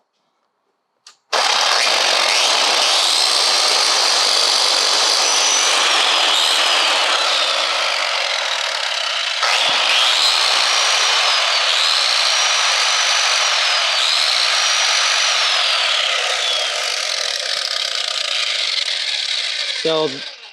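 A power saw cuts through a Onewheel, starting abruptly and holding a loud, sustained high whine with wavering pitch for nearly twenty seconds before cutting off.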